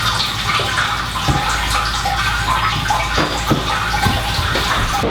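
Liquid drains steadily from the grain mash while brewing a Maibock beer. It is a loud, continuous rushing trickle with no pauses.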